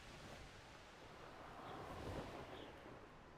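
A small waterfall in Hogwarts Legacy gives a steady, even rush of broadband water noise that holds a constant level throughout, with no voices.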